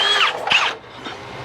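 A power drill whining briefly at close range during electrical work on a steel boat, two loud rising bursts of motor sound in quick succession before it winds down.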